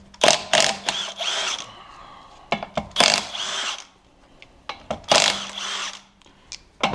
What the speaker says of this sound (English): ratchet, cordless ratchet. Highly recommend getting one of these.